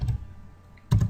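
Two short bursts of keystrokes on a computer keyboard, close and quiet, with a near-silent pause between them.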